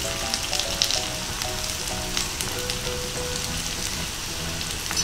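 Steady, dense sizzling and crackling of battered daikon radish deep-frying in hot oil over medium-high heat, continuous and close, with no talking.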